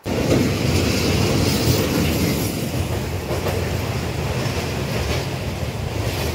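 A train rumbles steadily across a rail bridge, its wheels clattering in a dense, continuous roar with a hollow resonance, loud and close throughout.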